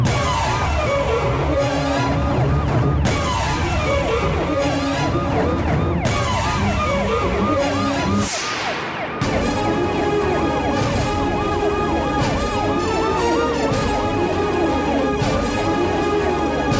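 An emergency vehicle siren wails loud and continuous near a house, its rising and falling tones sweeping throughout with a short dip partway before carrying on.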